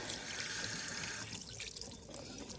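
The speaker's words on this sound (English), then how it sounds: "make sure that you run the water through it real good until the water basically starts to get clear" Tap water running steadily over rice being rinsed in a sink, a soft, hissing, splashing stream with faint trickling, close by and fairly quiet, without talk.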